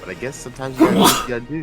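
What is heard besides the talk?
sneeze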